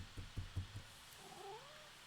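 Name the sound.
cat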